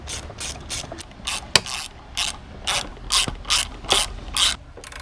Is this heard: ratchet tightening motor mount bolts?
yes